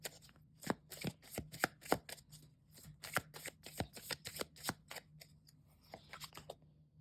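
Tarot cards being shuffled and drawn from the deck, a run of quick, crisp paper flicks and riffles up close, irregular but continuous, with no talking.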